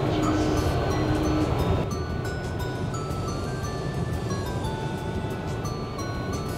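A Limited Express Shinano train rolls slowly through Nagoya past Kanayama Station with a steady low rumble, a faint metallic whine and squeal drifting over the constant track noise.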